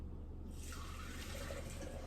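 Cooking water strained off into a container while making vegan queso, a faint gushing pour that starts half a second in and continues steadily, with no talking.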